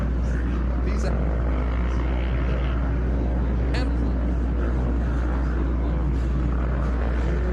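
Old two-stroke 1986 Honda CR250 motocross bike racing a new four-stroke at Loretta Lynn's, engines roaring as a loud, continuous rumble with a commentator talking over it.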